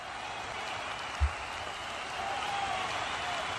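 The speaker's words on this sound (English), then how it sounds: "Everybody give Aiden a hand." A small crowd at a Coffee N' Pedals live event claps for a guest named Aiden, with a soft, steady patter of applause that swells slightly toward the end, heard from a short distance.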